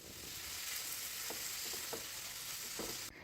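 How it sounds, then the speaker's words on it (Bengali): Chopped tomatoes and salt are stirred in a hot frying pan, producing a steady, close sizzle with a few soft scraping strokes of the spoon, no voices. "এখন সমস্ত কিছুকে ভালো করে একটু মিশিয়ে নেব"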